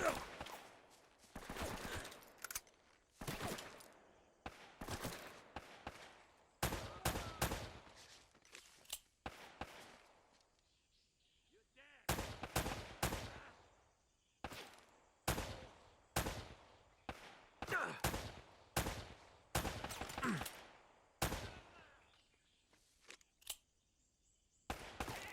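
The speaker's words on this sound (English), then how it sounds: "you're going to ask your friends to stop shooting at me" Bursts of video game gunfire from a pirate treasure-hunting session, with repeated volleys and quick single shots spread across the stretch, broken by short gaps, some near and loud, others softer, with footsteps and brief voices mixed in.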